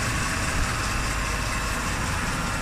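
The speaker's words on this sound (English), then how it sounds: "Very, very quiet engine." A 1989 Mercedes-Benz 420SEL W126 V8 with a timing chain idles very quietly, giving a steady, smooth low hum with no talking over it.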